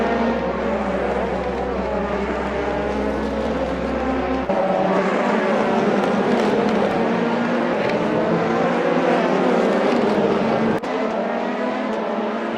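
Race cars lapping SUGO circuit in Japan during a 160-minute race, engines droning loud and continuous with passing and revving swells throughout, a low idle hum fading early.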